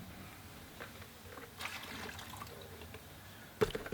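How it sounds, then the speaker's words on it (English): Used rinse water from a watercolor painting container is poured out, a faint, steady trickle and splash of liquid, close by, ending with a brief clink. "And I'll just empty my water quick."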